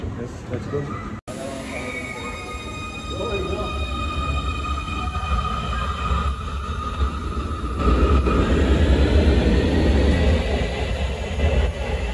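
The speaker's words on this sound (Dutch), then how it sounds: "Wij moeten overstappen op de U-baan," A Munich U-Bahn subway train rumbles along with steady low roar, faint tonal whines from the motors and a building rush of track noise, heard from inside the carriage.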